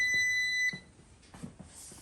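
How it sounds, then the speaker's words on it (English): A ComfortBilt HP22-N pellet stove gives a short electronic power-on jingle of steady tones for under a second, followed by faint clicks and quiet room noise. "you're going to hit this and you're going to hear a nice little jingle beep"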